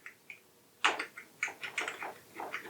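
Keys pressed on a Schneider EURO PC II computer keyboard give a quick, irregular run of about a dozen sharp, close clicks over a quiet background, with no talking.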